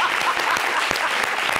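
Studio audience applause at an Ivorian showbiz TV show, dense steady clapping from many hands throughout, fairly loud and close, with no talking over it.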